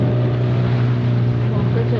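A boat engine drones steadily and loudly at close range while the boat is being parked near Suvarnadurga fort in the Konkan, with wind buffeting the microphone throughout.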